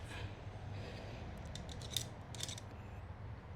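Scissors snip through pieces of material being trimmed to fit under an edge, a few short faint cuts over steady low background hum, no talk.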